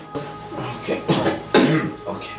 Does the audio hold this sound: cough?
yes